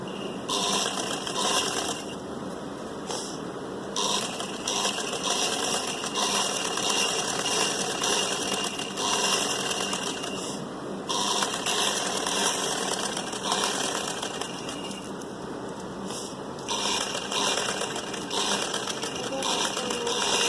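A sewing machine stitches lace onto a suit, its needle running a fast, steady mechanical chatter that carries on almost unbroken, with brief dips where the pace slows before picking up again.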